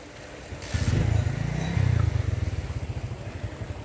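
Motorcycle ridden along a village road at night, its engine a steady, pulsing low drone that rises briefly as the rider accelerates, heard close and continuous with no talk.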